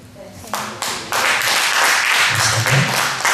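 A church congregation breaks into applause, starting with a few scattered claps and swelling into full, sustained clapping from the crowd, with a voice briefly heard underneath.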